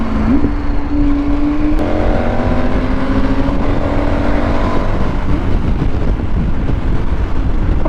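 A Ferrari drives past a moving KTM 1290 motorcycle abroad, its engine note rising and sweeping in pitch under a heavy, constant roar of wind buffeting the microphone.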